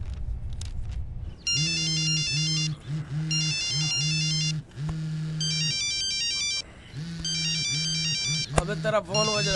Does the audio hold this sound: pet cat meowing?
no